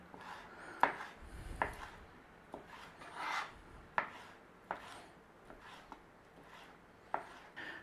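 Knife cubing bratwurst sausages on a chopping board, a series of sharp, irregular taps and thuds with soft rubbing between cuts, close and moderately loud with no talking.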